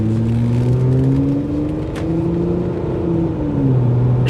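An older, worn Mitsubishi Diamante is driven along, its engine humming close and steady. The engine tone climbs and then drops back as it shifts through gears, with no voices in the cab.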